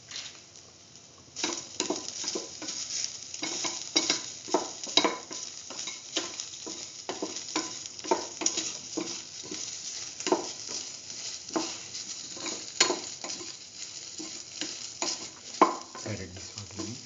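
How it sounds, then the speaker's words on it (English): Soy chunks and noodles with salt sautéed in a pan, a steady sizzle broken by repeated scraping strokes of a spatula stirring the mix, close and moderately loud with no talking. "thoroughly saute mix."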